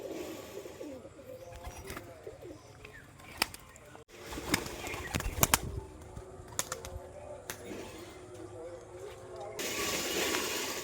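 Red and white Rajshahi pigeons coo softly nearby with occasional wing flutters and a final burst of flapping, while people talk over them.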